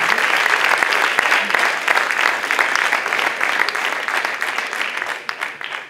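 Sustained audience applause at a Santa Cecilia band concert in Marmolejo, a dense steady clapping that stays loud throughout and tapers slightly at the end.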